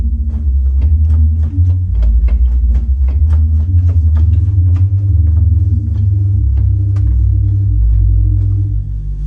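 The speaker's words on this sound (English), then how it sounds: "It is a 16-foot sub bass," A pipe organ's 16-foot sub bass pedal stop sounds a deep, loud, sustained low rumble that holds steadily throughout, shifting pitch a few times, with faint soft clicks of keys or pedals above.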